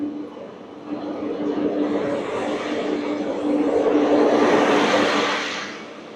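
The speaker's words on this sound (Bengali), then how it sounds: "ট্রেনটি আমাদের নৈহাটি স্টেশন থেকে ছেড়ে গেল কলকাতার উদ্দেশ্যে" An express train on the Sairang–Kolkata run pulls out of Naihati Junction station toward Kolkata, giving a steady, broad rail rumble that swells louder near the end before easing off.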